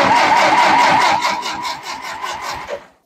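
An antique Ferguson TO-20 tractor engine cranks over without firing, a rhythmic, loud chugging of the starter that slows and weakens as the battery fades, then stops.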